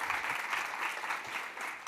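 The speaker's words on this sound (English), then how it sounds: "a huge round of applause for all of our integration partners" A conference audience claps briefly in a short, soft burst of applause heard from a distance.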